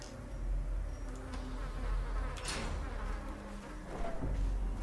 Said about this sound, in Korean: 날파리가.